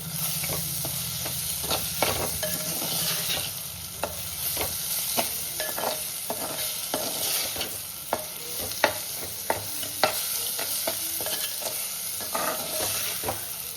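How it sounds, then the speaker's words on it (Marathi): Onions and tomatoes fry in hot oil with a constant sizzling hiss, punctuated by sharp clicks and scrapes of a spoon stirring the pan, close by and without speech. "आता आपण टोमॅटो टाकूया असो कांदा तुम्ही भाजून घ्या कांदो टोमॅटो स्मॅशमध्ये भाजांदे"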